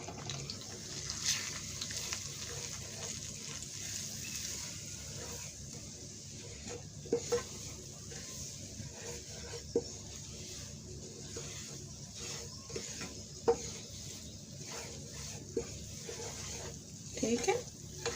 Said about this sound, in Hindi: और इसे अच्छे से इसकी भुनाई कर लेंगे।